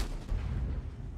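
A tank cannon fires in World of Tanks as a single heavy boom with a deep, rumbling tail that fills the short moment, distant-sounding and muffled rather than sharp.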